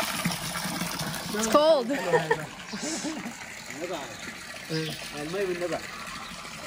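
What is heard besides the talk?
water of a small river coming from the mountain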